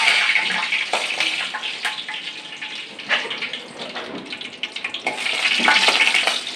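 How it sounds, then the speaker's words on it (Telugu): Crackling sizzle as a hot ladle goes into a pan while egg curry cooks: steady bright spitting and popping with small irregular bursts, close and fairly loud, no voices. "ఇలా వేడి గరిటెలు పెడితే ఇట్లా చిట్పట్లాడతాయి అనమాట"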